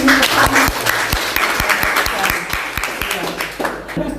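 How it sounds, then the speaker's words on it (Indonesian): An audience at a journalist press certification event claps in sustained, dense applause that stays loud for several seconds before thinning slightly at the end, with no voices over it. "Kita kasih aplaus lagi dong"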